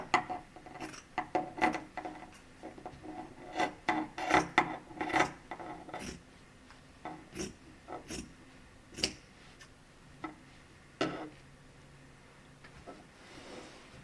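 Quiet, irregular snips and rustling clicks of scissors trimming fabric from baby clothes for a memory quilt, coming in short bursts with pauses between, without speech.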